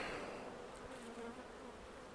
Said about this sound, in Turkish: arılar da biraz daha da hırçınlaşmaya başladılar